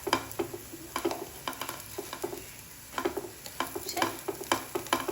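Tikki patties sizzle in a pan on the stove, a quiet frying hiss broken by repeated sharp scraping and stirring bursts in an uneven rhythm, close and alone.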